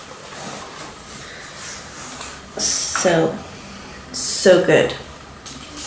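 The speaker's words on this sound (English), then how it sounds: "I'll spray a little bit more because the scent's going away a little bit." Perfume from a 100 ml bottle sprayed in two short, sharp hissing bursts a second or so apart, close to the mic, with a person talking quietly around them.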